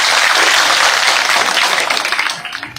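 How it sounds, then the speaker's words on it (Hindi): Loud crowd applause at an outdoor public rally in a Haryana village, a dense continuous roar of many hands clapping that thins out toward the end. "एक बार जोरदार तालियों के साथ अपने बेटे अपने भाई का हौसला बढ़ाएं।"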